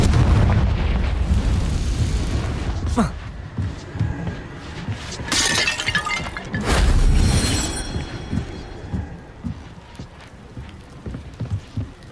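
Blasting spells hit objects in Hogwarts Legacy, a video game, with heavy booming impacts and a louder crash midway, followed by debris rattling and settling under low rumbling game audio.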